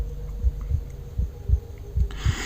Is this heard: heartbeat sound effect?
yes